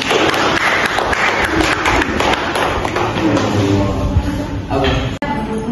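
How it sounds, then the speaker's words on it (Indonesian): Applause from an audience at an Islamic ethics (Aqidah Akhlak) class presentation, a steady dense clatter of many hands clapping that stays fairly loud for several seconds before tapering off near the end. "Kasih tepuk tangan"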